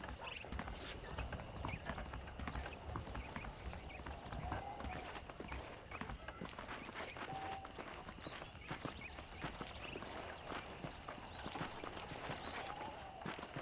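Saddled horses in the Western game Red Dead Redemption walk steadily, their hooves clip-clopping in a continuous rhythm at moderate distance, with no voices.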